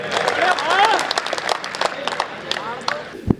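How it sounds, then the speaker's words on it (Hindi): Audience applauds a poet on stage at a Hindi comedy poetry event, a dense patter of clapping mixed with crowd noise and a voice over it, fading toward the end with a sharp thump at the close. "जोरदार तालियां जोनी बैरागी के लिए"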